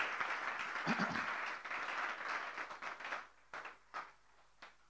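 A church congregation claps in acclaim of the king during a French-language sermon, a dense burst of applause that thins into a few scattered, fading claps near the end.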